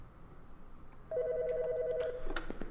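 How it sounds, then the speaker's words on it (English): A telephone in the horror video game The BarnStars rings once at night, a clear two-tone electronic trill that starts partway through and is followed by a few clicks, with no one speaking. "Hey, hey, we're answering the phone."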